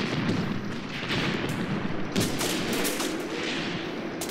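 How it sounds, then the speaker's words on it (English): Mortar team firing in the Graviteam Tactics: Mius Front war game, with a dense, steady run of heavy booming shots and rumbling blasts overlapping throughout, loud and continuous with no talk. "Pretty consistent mortar fire there."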